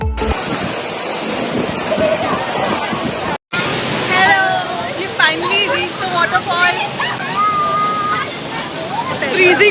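Water at Bhatta waterfall in Mussoorie rushes and splashes close by in a steady loud wash, with voices talking and laughing over it.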